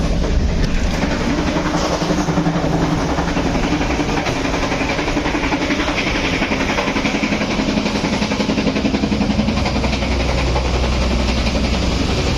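Bengawan passenger train running on rails, heard from inside the carriage: a steady, loud rumble with continuous rhythmic clatter of wheels over the track and no talking.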